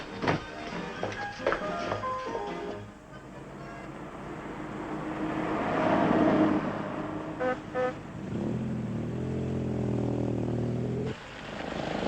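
A taxi in a city street at night, engine rumbling nearby with short horn toots and passing traffic, a car pulling up close.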